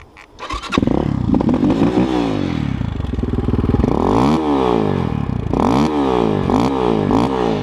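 A KOVI Advance 250 enduro motorcycle engine revs hard and repeatedly, rising and falling in pitch, loud and close, with some rattling clatter underneath.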